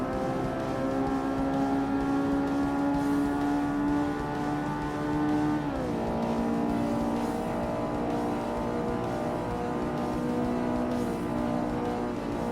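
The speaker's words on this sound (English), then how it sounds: "This little drift, Tokyo drift, you know? in Integra Type R." Acura Integra Type R in Forza Motorsport, front-wheel drive on a point-to-point event, engine holding a steady high drone that dips sharply on a shift mid-drift before climbing again, close and continuous with no voices.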